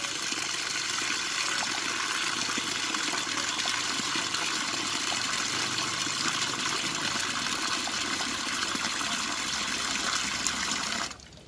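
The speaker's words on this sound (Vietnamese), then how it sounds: "Sau khi thái chúng ta rửa qua một lần." Water runs steadily in a continuous loud gush to rinse freshly sliced red bamboo shoots, a constant rushing flow that cuts off abruptly just before the end, with no voices.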